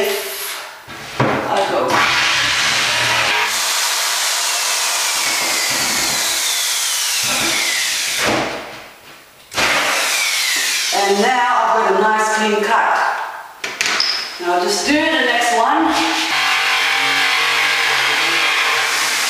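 A power tool cuts a drain hole through a cabinet panel, giving a loud, sustained rasping grind that stops briefly partway through and then resumes with a harsher, rattling edge.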